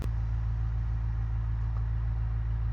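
Simulated car engine held at a steady drone on a dyno in a driving game played with a force-feedback steering wheel, a continuous low rumble that stays level and loud throughout with no talking.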